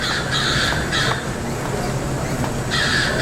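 An animatronic crow robot gives loud, harsh repeated caws in several bursts, close and clear over a busy background of room noise at a robotics club meeting.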